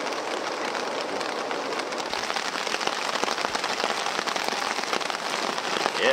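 Steady rain patters loudly and continuously on a surface during a mountain storm on a Mount Robson backpacking trip, with dense close drops and no talking.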